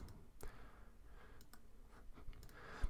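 Mouse clicks while drawing with a curve tool in Microsoft Word, a few sharp isolated taps spread unevenly over a quiet room background.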